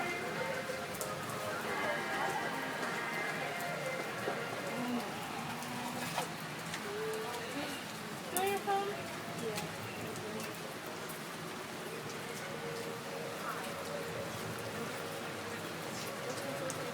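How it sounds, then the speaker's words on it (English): Steady rain falls during a thunderstorm at Cedar Point amusement park, a dense constant patter filling the scene, with occasional bird calls and faint voices in the background. "there is currently a thunderstorm, hopefully passing over"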